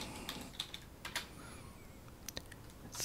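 Typing on a computer keyboard, scattered quick key clicks in short bursts with gaps between, fairly faint and close, no voices.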